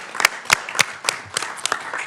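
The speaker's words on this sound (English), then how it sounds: "let's give Mark a round of applause" Scattered clapping from a small audience at a board of education meeting honouring a retiring staff member; a few distinct, fairly close hand claps spaced irregularly over a quiet room, sparse rather than a full ovation.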